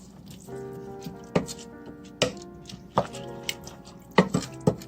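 A spoon scrapes and knocks through yellow saffron rice in a pot. Several sharp, separate taps and clinks sound close by over a soft wet churning, with a faint tonal hum underneath.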